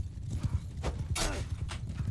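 Horses in a battle in the video game Mount & Blade II: Bannerlord, hooves clip-clopping in a quick irregular rhythm with brief sharper clashes over a low rumble.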